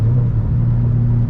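A 600hp single-turbo BMW 335i engine rumbling with a deep, loud, steady drone, close and unbroken, with no talk over it.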